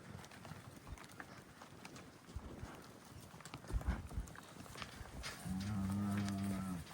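A bull on a Colorado cattle ranch lets out a single low, drawn-out moo near the end, preceded by scattered hoof thuds and shuffling of cows nearby.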